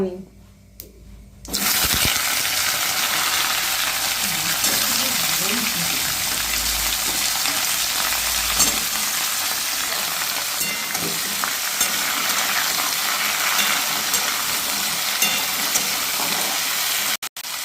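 Gourd, spinach, beans, potato and radish sizzle loudly in hot oil for a curry, a dense steady frying hiss that bursts in after a brief quiet start and runs on with faint stirring clatter and some talk.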